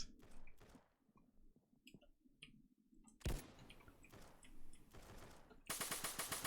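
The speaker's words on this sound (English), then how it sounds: "Oh, someone shooting me from behind." Video game gunfire in bursts, rapid machine-gun rattles and scattered shots that start and stop, loud and close, with a sustained heavy volley near the end and no talk over it.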